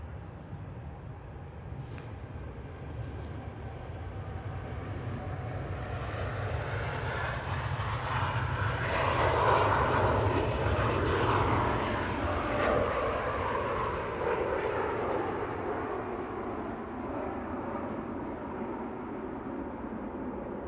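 A TUI airliner departing Manchester Airport, its jet engines a broad roar that swells from a distant rumble to a loud peak midway and then slowly fades, heard from outside with no talking.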